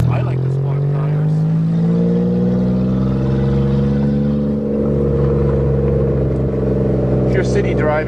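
A manual Toyota car pulls away and shifts into second gear, the engine note rising and falling with revving close by, while someone talks over it.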